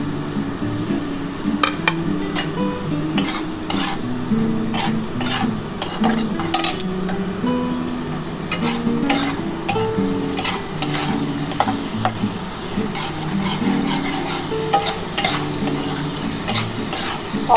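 Katla fish frying in hot oil with green chillies added, a steady loud sizzle under repeated scraping and stirring of a spatula against the pan, with occasional clinks of utensils and no voices.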